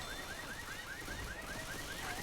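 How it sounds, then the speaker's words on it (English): A car alarm wails in a Left 4 Dead match, repeating rapid rising whoops in a steady cycle, loud and continuous over dense game background noise. "They set off the car alarm."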